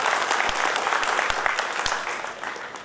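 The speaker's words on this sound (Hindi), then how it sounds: "हाँ बजाइए ताली।" Audience in a hall applauding during a motivational talk on ethics and governance, loud close clapping with a few sharp individual claps standing out, fading slightly toward the end.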